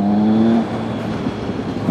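A Triumph Speed Triple ABS super naked motorcycle snarls loudly with its exhaust, one strong rev held briefly and then falling back to a rough, burbling idle close by.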